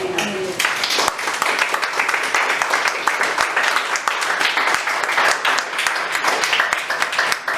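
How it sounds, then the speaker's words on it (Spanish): Loud, sustained applause from a church congregation, dense clapping filling the whole stretch, close and continuous, with a brief Spanish voice at the start. "¿Quién le da un aplauso al Señor?"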